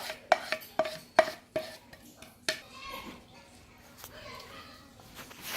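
Utensils clink sharply against a bowl several times as a Thai glass noodle salad is tossed with sauce and onions, followed by softer wet mixing and rustling while people talk.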